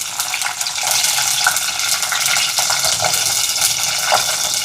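Chana dal and garlic frying in a pan, a steady dense sizzle and crackle lasting throughout with small pops, close and loud, no voices.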